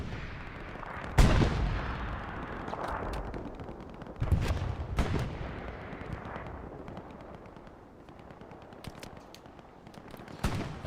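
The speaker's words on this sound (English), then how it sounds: "Bombing run on its way." Heavy explosions from a bombing run in a D-Day World War II shooter game: a few loud, booming blasts land at intervals, separated by quieter rumbling and scattered distant gunfire.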